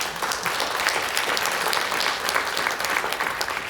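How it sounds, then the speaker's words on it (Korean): Audience at a Jeju Forum session held by the provincial council breaks into steady, dense applause, many hands clapping close together at an even level throughout. "토론을 해주실 총연사님께 뜨거운 박수 부탁드리겠습니다"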